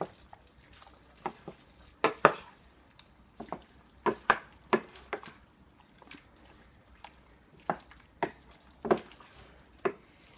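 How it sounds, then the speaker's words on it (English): Orange ginger chicken being stirred in a pan of sauce, with scattered scraping and clinking strokes of a utensil against the pan over a faint background hiss, irregular bursts spread through the stretch. "we're just going to kind of stir it in so that everything gets coated with it"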